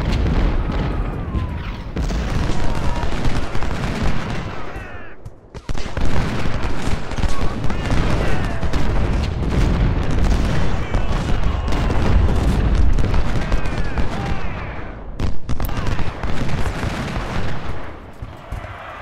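Civil War battle in the Ultimate General strategy game: dense rolling musket fusillades and booming cannon shots, loud and nearly continuous with a brief lull midway.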